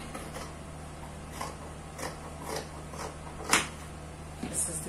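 Scissors snip through fabric to cut a pocket opening for a child's jacket, a series of soft, separate clips and creaks over a faint steady hum.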